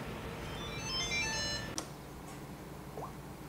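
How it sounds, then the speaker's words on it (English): A telephone rings while a Farming Simulator 2013 game runs, giving a short electronic ringtone pattern over steady background engine noise, with a sharp click partway through. "Oh, the phone is ringing."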